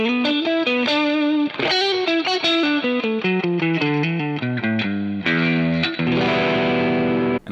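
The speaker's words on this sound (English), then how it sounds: "I had to know what the lead tones would sound like now." Distorted electric guitar lead played through a virtual amp simulator with effects, a fast run of sustained, bent notes in steady succession, loud and close, with no voices.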